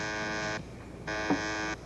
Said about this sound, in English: Your buzzer's ringing.